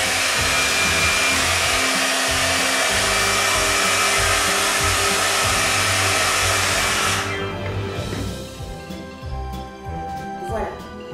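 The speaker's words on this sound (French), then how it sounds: "utiliser le fameux sèche-cheveux pour sécher la peinture" A hair dryer drying paint roars loudly and steadily for several seconds, then switches off, leaving quieter background noise and faint voices.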